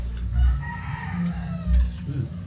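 A rooster crows, its call rising over a low background rumble, with a second fainter crow near the end.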